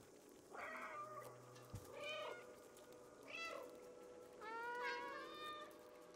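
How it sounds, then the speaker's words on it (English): Cats meow several times in the video game Stray, four distinct rising and falling calls spaced about a second apart, fairly clear and close over a quiet ambient background. "We're all meowing."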